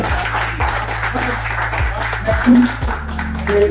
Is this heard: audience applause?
yes